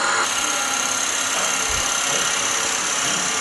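A power tool hollows out a wooden box at about 300–400 RPM. It gives a steady, loud mechanical whir with a faint low thump partway through and no talking.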